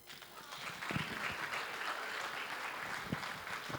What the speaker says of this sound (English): A round of applause for Adama Balde.